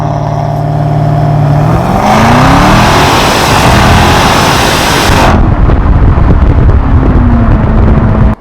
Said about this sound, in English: Supercharged is a 5-liter V8 supercharged, and wow, honestly, the exhaust, amazing.